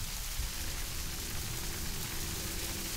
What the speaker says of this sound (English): Also, the rain is pretty.